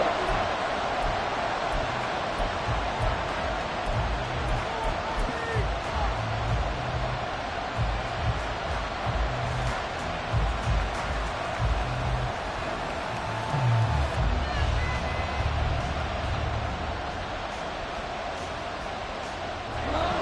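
Continuous stadium crowd roar from a Madden football video game, broad and steady through the late-game third-and-long moment, with low rumbling swells and a commentator's voice faintly present beneath the din.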